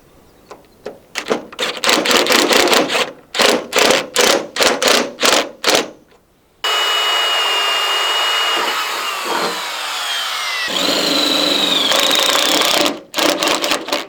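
A power drill bores a hole in the cab of a John Deere 410 backhoe, first in loud rapid bursts and then in a long sustained whine with shifting pitch, close and without speech.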